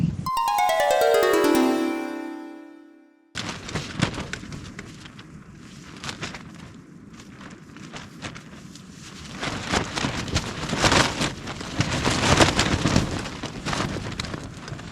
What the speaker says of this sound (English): We'll see how this rain goes.